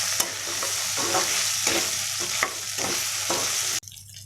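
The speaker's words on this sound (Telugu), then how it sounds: "ఇప్పుడు ఒకసారి బాగా మిక్స్ చేసుకోవాలి." Mutton fry being stirred in a hot pan, a spatula scraping in repeated strokes over a steady loud sizzle, close up, ending abruptly.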